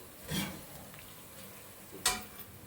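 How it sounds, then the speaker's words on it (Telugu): Ginger-garlic paste frying in a pan during a chicken fry recipe, a soft steady sizzle with two brief louder stirring scrapes, close by and without talk. "అల్లం వెల్లుల్లి గడ్డ పేస్ట్ వేసుకున్న తర్వాత పచ్చివాసన పోయేంత వరకు కూడా ఇందులో ఫ్రై అవనివ్వాలి"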